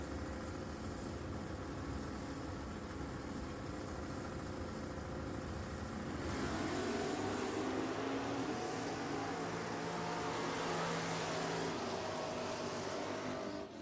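Drag race at Richmond Dragway, a Chevy Nova against a Ford Mustang launching off the line, engines idling and rumbling before a sudden loud surge of roaring, revving exhaust that carries on steadily.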